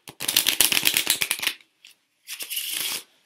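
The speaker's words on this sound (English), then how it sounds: "Let's shuffle this up." A deck of playing cards being shuffled up close: a rapid riffle of crisp flicking clicks, a brief pause, then a second softer, smoother burst.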